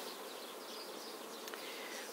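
Bees inside an opened beehive in spring hum as a dense, steady buzzing swarm, close and continuous with no talking.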